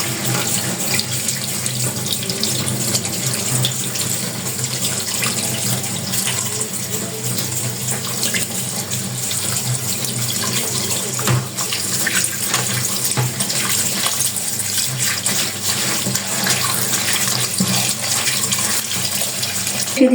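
Cooked noodles being rinsed under a running kitchen tap, a continuous close splash of water into a sink lasting the whole stretch with no pauses.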